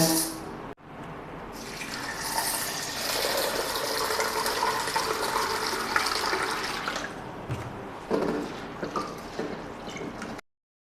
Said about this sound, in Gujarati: દાળને પહેલાં આપણે સારી રીતે ધોઈ લેશું